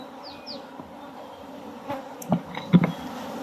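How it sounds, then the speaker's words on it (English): Honey bees buzzing around an opened hive during honey harvesting, a soft low droning hum close by, broken near the end by a few sharp knocks and handling sounds. "These bees don't want to move away."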